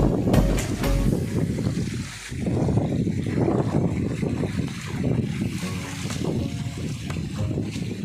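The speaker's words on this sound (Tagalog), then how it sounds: "Malakas ang hangin." Strong wind buffets the microphone beside a shallow river in gusty, rumbling bursts that rise and fall. It stays loud and close throughout, and a little faint background talk comes through.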